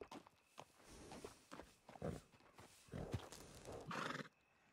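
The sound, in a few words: horse whinnying and hooves in video game Red Dead Redemption 2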